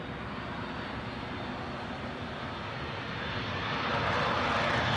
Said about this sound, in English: British Airways A320neo from Istanbul.